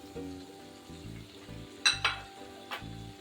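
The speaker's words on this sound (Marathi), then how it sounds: "टोमॅटो घालून छान परतून घेऊया" Tomato fries with cooked potato and cauliflower in a pan, a soft crackling sizzle punctuated by a few bright metallic clinks of a stirring spoon against the pan.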